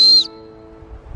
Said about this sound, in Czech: na tom fire steelu ta rukojeť, to držátko, je píšťalka